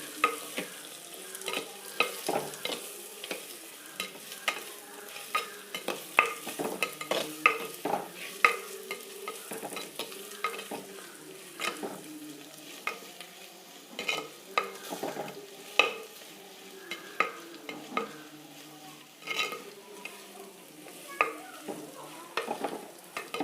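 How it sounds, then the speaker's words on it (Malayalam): A spoon stirs biryani in an oiled clay pot, scraping again and again in an uneven rhythm over a low, constant sizzle, loud and close, with no voices. "നന്നായിട്ടൊന്ന് ഇളക്കണം"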